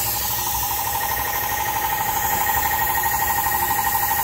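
A 3/8-inch impact wrench on the power steering pump pulley nut of a 2002 Acura RSX base, a loud continuous buzzing hammer rattle held for several seconds up close, no talking.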